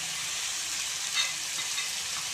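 Tomatoes fry in a pan for drumstick curry. The close, steady sizzle is broken by a few soft stirring scrapes, with no voices.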